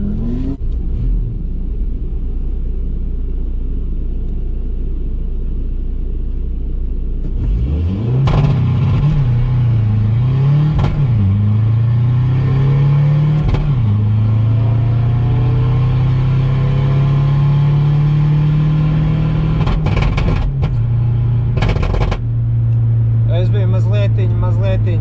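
A drag racing car launches at a Biķernieki drag event, its engine rising from a low idle into a loud revving roar that holds strong, with sharp transient bursts and a speaking voice throughout.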